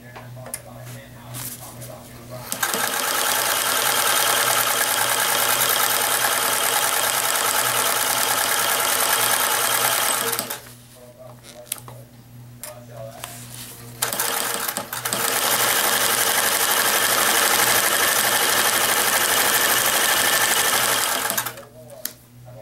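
A sewing machine stitches a stuff sack in two long steady runs, a loud continuous mechanical whir that stops for a pause of several seconds in the middle and then resumes, with faint handling noise between the runs.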